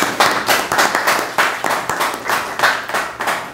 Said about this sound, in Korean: 김재희 위원장님 박수 부탁드립니다.